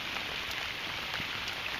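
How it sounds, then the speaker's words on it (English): Heavy rain pours down onto a river, a dense, steady hiss of drops hitting the water surface, close and continuous, with one sharp droplet tap near the end. "Well, obviously it is pouring down rain, and it's been pouring down rain for a while."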